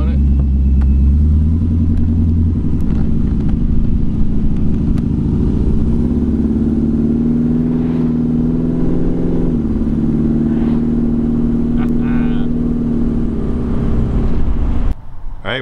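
A 1951 Mercury Custom convertible with a 400-horsepower LS1 V8 and a 700R4 automatic overdrive transmission cruises past. Its deep, steady engine rumble is close and loud, with a slight rise in pitch midway and someone talking over it.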